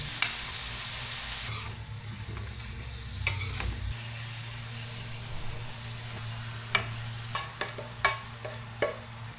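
Beef frying in butter in a pan, a steady low sizzle running throughout with occasional sharp scrapes and taps of a utensil stirring, fairly quiet and close.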